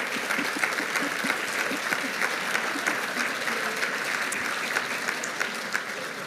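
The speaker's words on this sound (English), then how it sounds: "Give her a round of applause" An audience applauds warmly for a woman named Christina, a dense, even crowd clapping that holds steady throughout at moderate loudness without pause.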